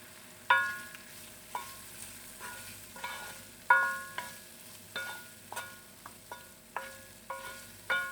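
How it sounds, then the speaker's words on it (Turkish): Small meatballs fry in a little oil in a pan, with soft sizzling under a series of sharp metallic clinks as they are turned, about a dozen taps in an uneven rhythm, close and clear. "tavamda şöyle onları bir güzel hafifçe çevirtirerek kızarttıracağım"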